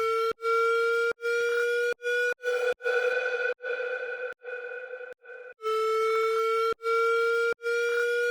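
Plain sine-like synth tone in a music production project, repeating in pulsed bursts with short gaps and steady harmonics, its pitch gradually stepping upward across the passage, loud and alone with no voices.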